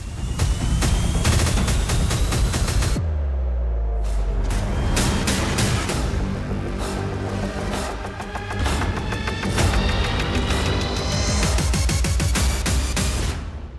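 An Iranian missile attack in Adana, Turkey, recorded by civilians: loud, dense bursts of rapid explosive cracks and booms in long rolling volleys, sustained and close throughout with only a brief lull.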